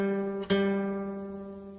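Acoustic guitar plays notes on the open third string, the opening of 'Jack and Jill' on five strings. Two plucks land close together and ring out clearly, with a steady, slowly fading sustain and no talking.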